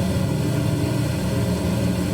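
A Lockheed Electra 10A propeller aircraft in flight, its engines droning loud and steady from inside the cabin, a dense continuous roar with no pauses or talk.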